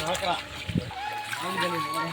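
Water rushes and splashes in the Mangani mountain stream on the Sathuragiri hills as people wade across holding a rope; the steady flow continues under close talking, with a brief louder slosh partway through.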